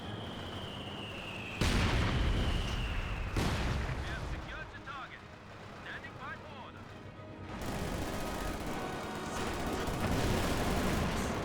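Rifle fire from Conscript infantry in a Company of Heroes 2 match against a Pioneer, with Panzer IV tanks on the field: sharp cracks over a dense battle din, with loud booms and a voice talking throughout.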